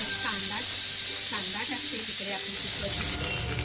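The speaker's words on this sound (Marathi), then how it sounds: "तेल असं छान कडकडून झालं की आपल्याला जो बारीक केलेला कांदा आहे ना तो कांदा टाकायचा आहे" Hot oil sizzles with a steady bright hiss while someone speaks over it; the sizzle swells sharply near the end as finely chopped onion goes into the oil for misal.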